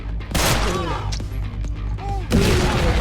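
Explosions and bursts of gunfire sound during a John Wick-style shooting video game. Two heavy blasts punctuate rapid crackling, and a voice talks over the action.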